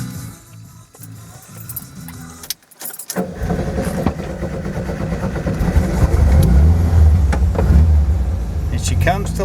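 A 1973 VW Karmann Gia convertible with a rebuilt motor cranks and catches after a key jingle, then settles into a loud, steady air-cooled idle with a low droning rumble.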